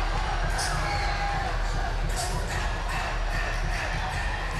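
Steady crowd noise from a packed gym at a boys basketball playoff game, Everett at Attleboro, with continuous cheering, shouts and whoops from students and fans throughout.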